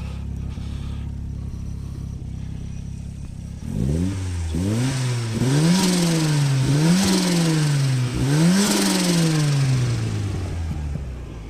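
A warm 1987 Ford Sierra Cosworth RS500 idles steadily, then its engine is blipped in about four sharp revving bursts that rise and fall one after another, loud and close, with no talk over them.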